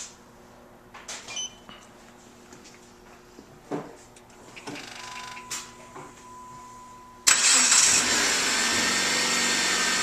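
A 2007 Jeep Compass fitted with a remote starter clicks and whirs through a few relay ticks and chimes, then the engine cranks and catches, settling into a steady close idle.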